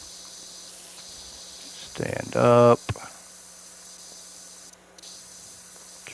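A pressure washer in PowerWash Simulator 2 gives a short, loud hissing spray burst of under a second against a quiet background hum, with brief speech nearby.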